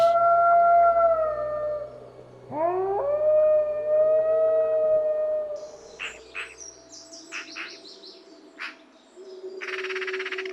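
A long, mournful wolf howl rises and holds at dusk in a Bavarian forest, followed by a second gliding howl, then bird chirps in the quiet background.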